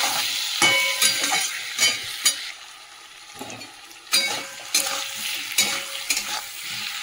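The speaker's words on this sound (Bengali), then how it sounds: "এই যে টমেটো আর কাঁচা লঙ্কাটা দিয়ে দিলাম তেলের মধ্যে" Tomato and green chilies frying in oil in a pan, bursts of crackling sizzle alternating with quieter pauses and spoon clinks against metal, close by, no voices.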